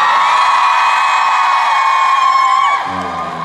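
Audience at an outdoor military public-relations broadcast concert cheering and shouting in a sustained loud roar that fades and shifts near the end.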